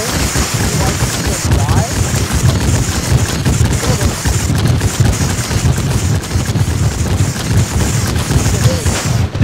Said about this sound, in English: Sorry, I couldn't hear anything over the loud fireworks.